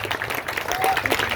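Children in an audience clap together at a Bihar Diwas 2023 science magic show, a dense, steady patter of applause lasting the whole moment with voices mixed in.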